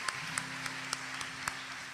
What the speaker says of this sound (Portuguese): Você pode aplaudir o Senhor por isso? Faça isso com alegria.